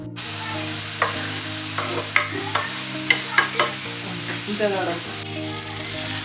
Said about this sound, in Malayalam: നല്ല പോലെ വഴറ്റുക കേട്ടോ